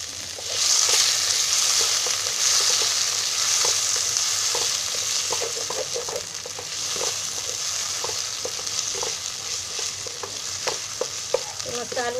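Chopped tomato with garlic paste sizzles steadily in a hot pan close to the mic, while a spoon stirs it with regular scraping strokes over the continuous frying hiss.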